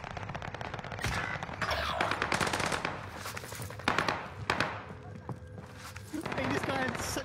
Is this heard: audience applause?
no